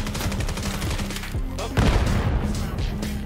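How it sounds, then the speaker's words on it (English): Rapid automatic gunfire from the Vail VR shooter game, dense bursts of shots close and loud with brief pauses between volleys. "I'm just free firing."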